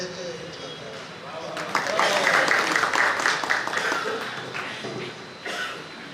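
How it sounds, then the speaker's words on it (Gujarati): An audience at a Gujarati comedy poetry recitation breaks into dense, loud applause that swells, holds for several seconds and then tapers off, with a host's voice over the clapping. "જબરદસ્ત રજૂઆત માટે આપણે જોરદાર તાળીઓથી"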